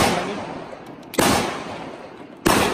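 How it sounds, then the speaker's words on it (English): A SIG Sauer P320 Compact .45 pistol fires two sharp, loud shots about a second apart, each followed by a decaying outdoor echo. "I'm gonna load up just a couple of more, and this will be the real test. I'm gonna shoot up."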